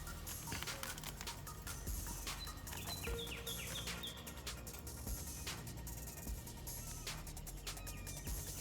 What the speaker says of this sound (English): Those birds are loud in the morning.